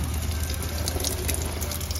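Water spraying from a shower head onto succulent plants, including aeonium, on a balcony: a steady, close hiss of water falling on leaves and soil, continuous and alone.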